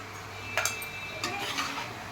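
A utensil stirs ginger garlic paste and turmeric in a pan, with a few distinct metallic scrapes and clinks spaced about half a second apart over a quiet low kitchen hum.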